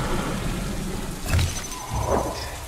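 Steady rain hisses across the ground in the video game The Isle, a continuous wash of drops with a couple of low rumbles, no voices.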